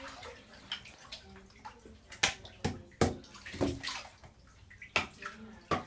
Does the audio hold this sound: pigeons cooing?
no